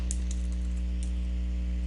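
Typing on a computer keyboard: a few sparse, soft keystroke clicks, faint and spaced irregularly over a steady electrical hum in a quiet room.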